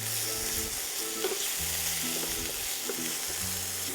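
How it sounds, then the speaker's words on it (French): Porcini mushrooms sauté in hot olive oil in a pan, sizzling and crackling steadily throughout, with soft stirring and a quiet melodic tone underneath. "Et dès que ça va chauffer, on va rajouter les cèpes et on va les faire rissoler 5 minutes à peu près."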